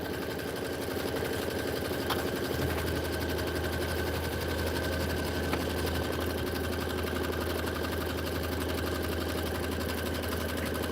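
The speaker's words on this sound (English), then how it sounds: "Okay, so we just did our placement stitch." A sewing machine runs a placement stitch on quilt batting, a steady close mechanical whir that picks up a deeper hum partway through, with no speech.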